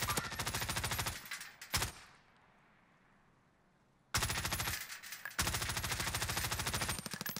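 Rapid automatic gunfire in Warzone rattles in loud sustained bursts, stops for a couple of seconds of quiet, then resumes in long continuous volleys.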